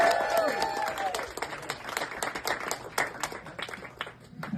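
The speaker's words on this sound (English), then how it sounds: "Clap your hands for Jack Spinella." Crowd at an open mic night in a tavern clapping for a performer; scattered hand claps build into a lively patter with some cheering voices and chatter mixed in, moderately close.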